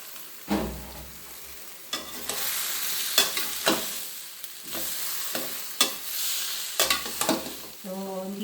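Bitter gourd frying in a pan with egg, a close sizzling crackle punctuated by repeated sharp scrapes and clatters of stirring at irregular intervals, with no speech.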